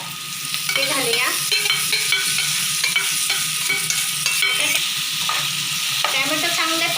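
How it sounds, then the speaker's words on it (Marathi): Chopped tomatoes fry and get stirred in a pan, giving a loud, continuous sizzle with repeated scraping strokes of a spoon, close up and without any voices. "त्यानंतर चिरून घेतलेले टोमॅटो आहे ते घालूया।"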